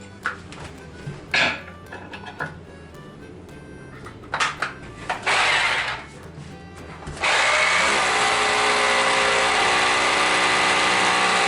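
Power drill boring a hole into a wall to take a dowel for fixing foam insulation board: short bursts of drilling at first, then a loud sustained grinding run through the second half.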